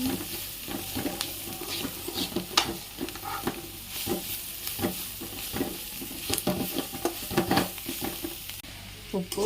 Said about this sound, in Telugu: ఈ ఉడికించి స్మాష్ చేసుకొని పక్కన పెట్టిన పొటాటోని ఈ ఆనియన్లో బాగా కలుపుకున్నాను